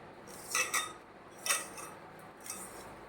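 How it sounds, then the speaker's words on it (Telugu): A spoon scrapes and clinks in a bowl as salt is mixed into leftover cooked rice, a few soft, close scrapes spaced about a second apart in a quiet room. "అన్నంలో కొంచెం సాల్ట్ వేసి కలుపుతున్నానండి"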